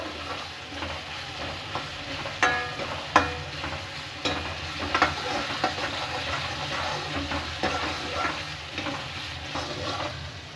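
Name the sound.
stirring and frying onion and tomato for egg balls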